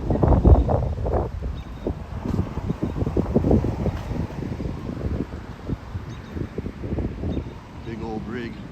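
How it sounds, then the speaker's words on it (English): Gusty wind buffets the microphone near a lake in the evening, a steady low rumble with uneven swells under scattered footsteps and faint background noise, with no one talking. "You definitely hear the wind now."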